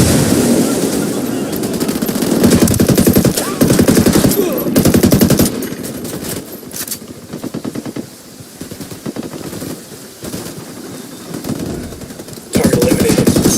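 Sustained gunfire in the tactical shooter Ghost Recon Wildlands, loud rapid automatic bursts and single shots rattling across the scene, easing to scattered fire before a heavy burst returns at the end.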